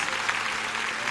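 A church congregation claps hands together in a brief, dense burst of moderate loudness, the many claps blurring into one continuous wash.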